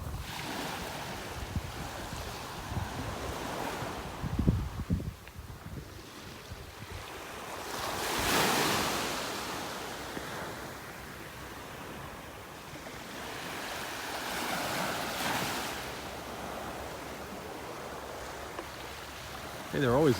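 Small morning waves break and wash up on a beach in North Naples, Florida, in a steady soft surf with wind rumble, swelling in broad rushes around the middle and again toward the end.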